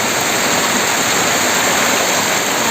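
Floodwater pours across a road, forming a steady, loud broadband rush like a waterfall or stream, continuous and close, with no voices.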